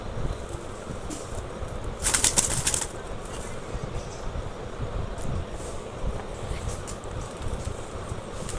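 A short burst of flapping wings from domestic pigeons kept for sale rises for under a second near the middle, over steady background noise.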